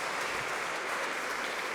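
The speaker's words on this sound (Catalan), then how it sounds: "un aplaudiment molt fort a mossèn Xema" An audience claps warmly for a priest at a Christmas music event in Barberà del Vallès, a brief burst of dense, even applause heard at moderate distance.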